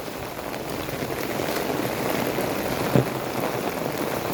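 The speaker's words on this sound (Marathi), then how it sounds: "अति मुसळधार पाऊस झाला चालू आहे." Heavy monsoon downpour pouring on a village, a dense, steady roar of rain close by with no break, one brief thud near the middle and no voices.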